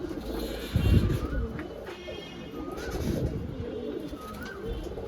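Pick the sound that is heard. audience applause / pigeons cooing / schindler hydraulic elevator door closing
pigeons cooing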